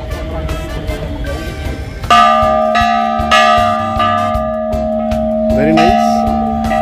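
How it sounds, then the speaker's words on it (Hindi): A small iron bell hanging on a Meenakshi temple model is struck, ringing out loud and near with a sustained metallic tone that keeps sounding after each strike. "इसके साथ में बहुत प्यारी घंटी लटकी हुई है जिसको मैं अभी बजाकर दिखाने वाली हूँ"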